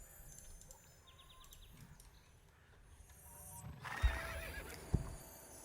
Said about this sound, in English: My 375th maxed horse in Star Stable.